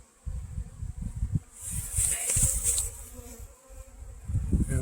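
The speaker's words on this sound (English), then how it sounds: "check out the bees with me" Saskatraz honey bees buzz steadily around their hive, a dense insect drone close by with low rumbling handling noise underneath throughout.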